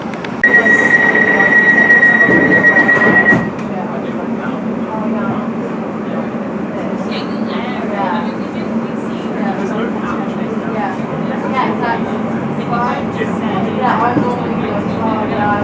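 A London train bound for Paddington rumbles along the rails with a steady interior roar and faint wheel squeal, an onboard chime and tone at the start and announcements spoken over the running noise.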